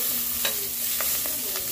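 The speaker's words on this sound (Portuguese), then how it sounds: "a fritar, né? Literalmente fritar." Garlic sizzles steadily in a hot pan while being stirred, with a few sharper scraping strokes standing out over a constant close frying hiss; no one talks.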